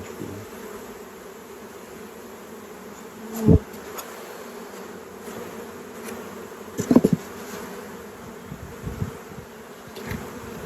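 Honeybees at an open hive during queen rearing on a hot day hum in a faint, steady drone, with a few louder buzzes as single bees pass close by.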